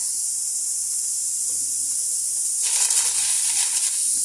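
Shrimp frying in hot oil in a pan, a steady broadband hiss that swells into louder crackling sizzle partway through, close and continuous with no talking.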